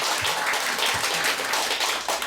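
An audience at a lecture gives a dense, continuous round of applause for the chairman, with many hands clapping loudly and evenly close by.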